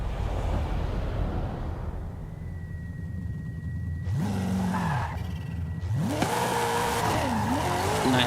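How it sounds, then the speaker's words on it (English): A car drifts in Forza Horizon 5, steered with a wheel controller: a steady engine drone gives way to two bursts of sharp, wavering tire squeal, the second longer and louder, with no talking over it. "So let's go there and see if we can drift."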